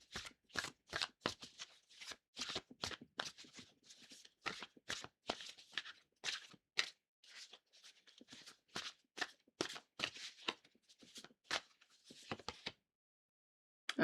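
Tarot cards are shuffled by hand in quick repeated riffling bursts, close and crisp, with brief pauses, then a short silence near the end; no one speaks.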